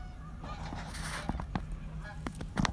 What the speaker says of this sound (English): the Canadian geese. Can you hear them?